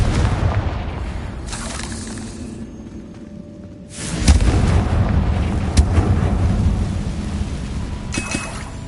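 A Confringo explosive spell cast in the Hogwarts Legacy video game lands as a loud, dense burst with a rumbling, crackling body that swells after a quiet gap and holds for several seconds, with a sharp crack near the end.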